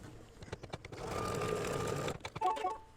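An embroidery machine stitches a tack-down line on an in-the-hoop mug rug: quick needle taps, then a steady faint whirring run, then more short stitching bursts.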